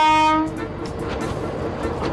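An old rail bus, built for Munich's branch lines, sounds a brief tonal horn blast as it crosses the Andes, then its steady rumbling run continues underneath.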